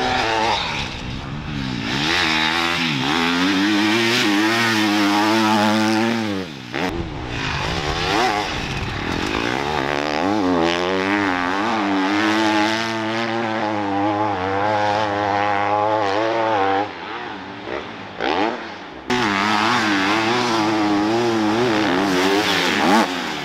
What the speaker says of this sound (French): Bogdan il est en train de rouler, c'est lui qu'on entend derrière